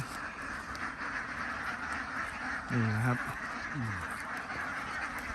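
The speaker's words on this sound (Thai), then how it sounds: "เห็นแล้วครับ เป็ดเยอะนะครับ" Laying ducks in a duck pen on a farm in Pha Khao, Loei, give a few short nasal quacks over steady outdoor background noise, while someone talks nearby.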